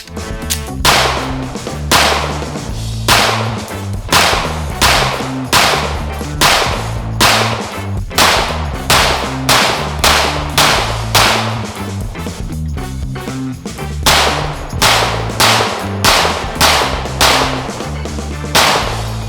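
A MAC 9DS compensated 2011 pistol fires 124 grain Scorpio ammunition outdoors, a long run of sharp, loud shots in quick irregular strings with brief pauses between groups.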